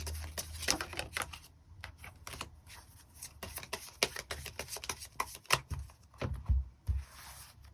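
Tarot cards are shuffled and drawn in a quiet setting: a quick series of crisp riffles, flicks and soft slaps comes in uneven bursts close to the listener. Nobody speaks.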